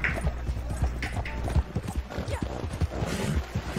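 Horse hooves clip-clop in a brisk, steady rhythm in the video game Red Dead Redemption 2, loud and close, with no talking over them.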